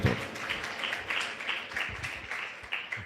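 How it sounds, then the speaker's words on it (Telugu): A church congregation claps hands together in a rhythmic burst of applause, repeated beats of many palms at moderate distance, with faint voices underneath. "చప్పట్లు కొట్టండి"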